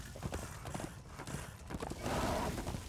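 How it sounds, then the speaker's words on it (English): Hoofbeats from a horse in the game Darksiders 2, a quick clip-clop that builds into a louder neigh near the end, close and clear with no voices over it. "And now we can have a horse."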